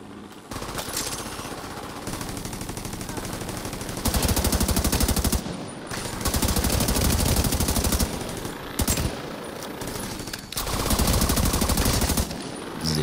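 A turret in The Division 2 fires in long, rapid automatic bursts, loud and dense, with brief pauses between volleys and no talk.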